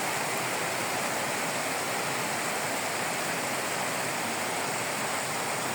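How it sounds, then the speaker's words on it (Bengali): Heavy downpour of morning rain pouring continuously, a dense, loud, even roar of falling water with no breaks and no voices. "কি মুষলধারে বৃষ্টি হচ্ছে অনর্গল।"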